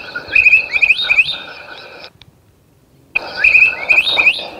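Birds chirp and call in a forest, a bright, busy chorus of tweets and trills in two bursts separated by a short near-silent pause.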